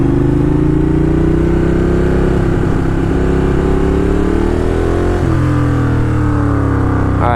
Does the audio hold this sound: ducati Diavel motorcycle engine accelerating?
yes